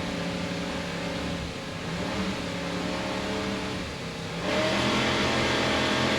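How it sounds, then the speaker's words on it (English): Twin 800-horsepower Mercury inboard engines on an offshore powerboat rev at the start of a Daytona Beach race, a loud continuous droning roar that surges louder near the end. "Let's listen to those Mercury engines as they rev up and start the race."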